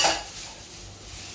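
Evaporated milk for leche flan is mixed in a bowl with a utensil, giving a single sharp clink against the bowl at the start followed by a faint fading scrape, alone with no talking.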